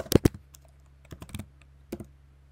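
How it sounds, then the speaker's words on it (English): Keys on a computer keyboard clatter in short bursts, a couple of sharp close taps and then scattered quick strokes with pauses between, alone in a quiet room. "So I'm going to type menu bar"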